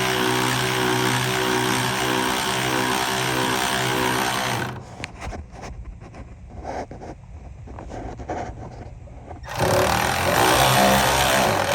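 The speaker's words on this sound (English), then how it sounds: "we're about to release the Freon" Freon refrigerant vents from a residential HVAC system in a loud, steady hiss that cuts out for several seconds into a rougher sputtering rush, then resumes at full force, close to the microphone, with no talk.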